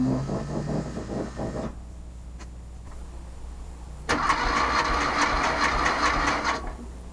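A VW Sterling kit car engine catches after cranking and settles into a rough, steady idle, heard close by following a short quiet gap.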